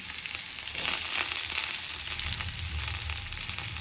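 Curry leaves, green chilli and onion sizzle in a pan for upma, a continuous close crackling fry with occasional stirring, no voices.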